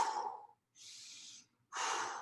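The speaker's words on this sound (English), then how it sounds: "Hold here for 2 full breaths." Three slow, audible breaths during a held lift exercise, each a soft airy rush separated by brief silences, close and alone without talk.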